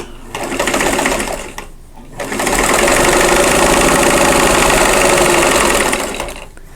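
A sewing machine stitches a quilt block in two close, loud runs of rapid needle chatter separated by a short pause.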